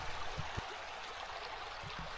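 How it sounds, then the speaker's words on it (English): A small forest creek flows steadily with a soft, continuous burble and trickle, fairly quiet and close, with a few faint low knocks and no voices. "with a little walk through the forest there's a nice little creek"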